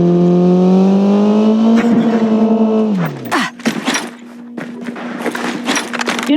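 A car engine in a shooting video game revs up in a rising harmonic whine, drops sharply, then settles into a steady drone amid scattered clicks and bursts of game noise.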